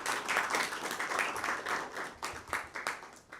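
An audience of students at a school workshop claps in welcome, a brisk patter of hands that grows sharper and more scattered toward the end.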